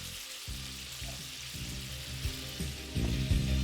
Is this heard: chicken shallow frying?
yes